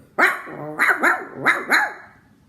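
A street dog barks outside a window, about five loud, close, rough barks in quick bursts with a slight growl, and no voices.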